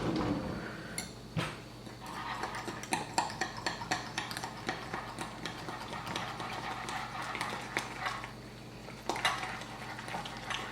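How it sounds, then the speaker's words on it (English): A spoon clinks and scrapes steadily against a bowl while Trader Joe's Uba Mochi pancake batter is mixed with milk, with quick rhythmic taps over a low background hum. "And then you need to mix it all up."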